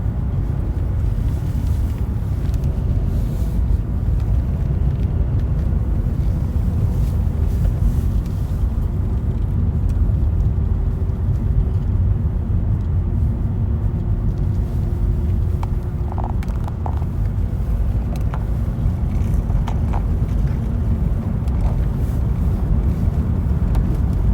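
Inside a moving car, a steady low road rumble and engine drone fill the cabin continuously, with faint wind noise and no clear speech over it.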